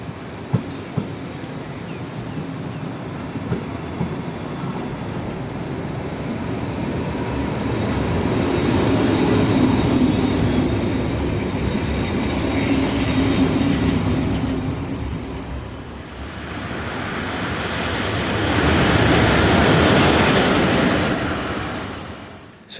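A Swiss Federal Railways Class 566 electric multiple unit, built in 1973, arriving on a service to Moutier: a steady rolling rumble builds, eases, then swells again with a loud, hissing pass close by, with no talk.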